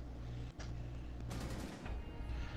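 Bursts of rapid gunfire sound in a multiplayer video game. The shots are dense and layered over a loud background rumble, with short sharp bursts near the start and the middle.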